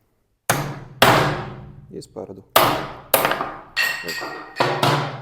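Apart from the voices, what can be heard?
hammer striking knife spine when batoning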